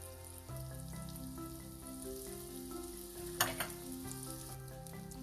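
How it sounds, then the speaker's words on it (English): Idlis frying in butter in a pan give a steady, moderate sizzle throughout, with brief stirring scrapes and clinks partway through under a soft tonal background. "Now we'll fry these idlis."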